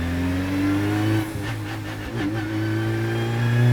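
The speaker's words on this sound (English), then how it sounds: "Go through the ignition sequence and the car comes to life." The engine of a mid-engine Volkswagen Polo RX fires up and settles into a loud, rough idle, then revs briefly with a sharp rise and falls back to a steady drone.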